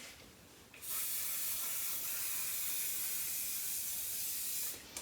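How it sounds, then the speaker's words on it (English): A single long, steady hiss of cooking spray lightly coating bagels, close and bright, lasting about four seconds before cutting off, with a quick puff at the end. "we just use our cooking spray and we'll spray them really lightly."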